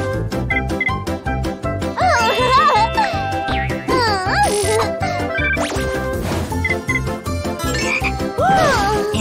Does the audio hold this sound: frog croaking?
yes